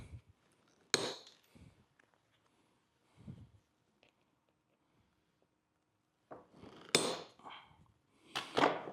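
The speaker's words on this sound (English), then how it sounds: "sometimes I use my second rivet setter and round them off a little bit, but I'm going to use my hammer." A hammer flattens metal rivets on a leather flip-top shave kit: a few sharp, close taps spaced out between quiet pauses, with a cluster of strikes near the end.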